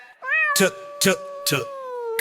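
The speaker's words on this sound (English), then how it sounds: "C is for cat, cat," A cartoon cat meows, a long, clear, drawn-out tone that bends up and then slowly sinks, while a voice says a short word three times over it.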